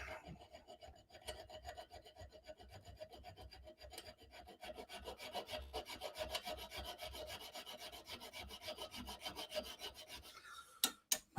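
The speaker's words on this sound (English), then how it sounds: "Maybe I should stop screwing around with the needle files." Needle files rasp back and forth on the guard of a stiletto dagger being faceted, a close, continuous scraping rhythm of quick strokes, ending with a couple of sharp knocks.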